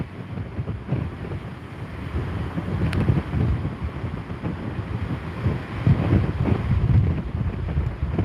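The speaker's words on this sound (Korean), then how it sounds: "앞에 파도 오는 게 진짜 높은데" High surf from Typhoon Bavi pounds the Jeju shore, surging waves rolling in with heavy wind buffeting the microphone, a continuous loud rumble with no talk.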